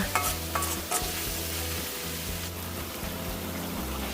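Fermented soybean paste is stir-fried in a pan with sea bass and celery, giving a continuous close sizzle broken by regular scraping and stirring strokes, with no voices.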